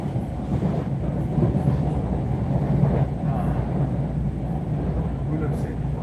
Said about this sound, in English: This is the train to North White Plains.